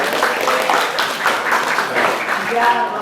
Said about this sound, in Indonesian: kasih tepuk tangan buat Rehan